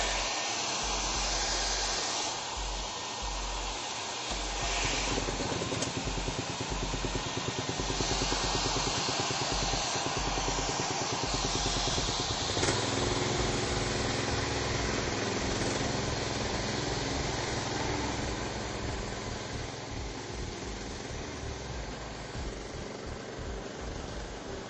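An Edco Turbo Max gas-powered concrete grinder runs continuously indoors, a loud steady engine drone with a harsh grinding roar, sustained for the whole stretch without talk.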